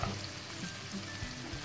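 Chicken pieces sizzle and crackle steadily in a hot pan, a soft continuous frying hiss with faint scraping of stirring.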